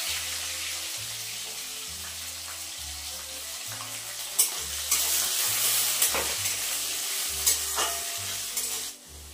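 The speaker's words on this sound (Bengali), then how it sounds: "আলুটা অল্প করে ভেজে নেব" Potatoes fry in a pan with oil and whole garam masala, a constant close sizzle under repeated scraping strokes of a spoon stirring them, with a few louder clinks.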